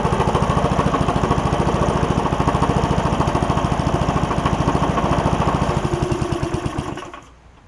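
A Murray push mower with a Briggs classic engine chugs in a steady, rapid putter close by for about seven seconds, then cuts out and falls quiet.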